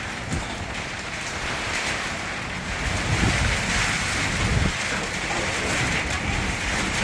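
Heavy, wind-driven rain pours down steadily as a dense, continuous hiss with low rumbling gusts, swelling slightly midway, no voices.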